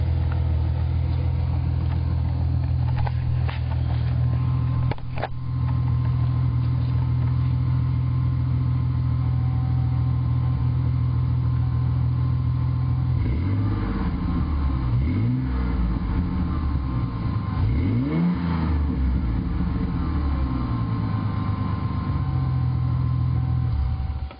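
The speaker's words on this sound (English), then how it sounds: "And that's my new exhaust, Flowmaster 40s. Sound pretty good." A V6 Ford Mustang with a Flowmaster 40 exhaust idles with a deep steady rumble, then is revved several times in quick bursts, loud and close.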